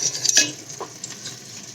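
A soft, steady sizzle of vegetables frying in a pan, with a brief clink and stir near the start, close and fairly quiet.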